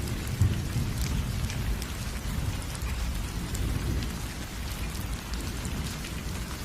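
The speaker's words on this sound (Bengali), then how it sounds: "আর তখনই আচমকা প্রচুর বৃষ্টি শুরু হয়।" Heavy rain pours down steadily at night in a village storm, a dense continuous hiss of drops on surfaces with deep rumbling underneath, loud and unbroken throughout.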